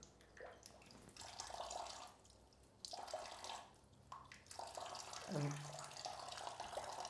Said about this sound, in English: And then we take some water, rinse our nostrils 3 times.